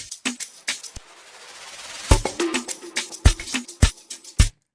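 An amapiano drum fill from a sample pack, programmed in FL Studio: a rapid run of crisp percussive hits, shakers and punchy low kicks in a syncopated pattern, building in density and loudness, with no voices.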